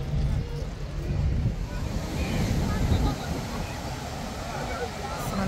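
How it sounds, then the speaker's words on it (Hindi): Strong sea waves surge at Jumeirah Beach in Dubai, a broad rushing wash that swells and recedes under heavy wind buffeting the microphone, with faint voices in the background. "समंदर बहुत तेज है यहाँ पर।"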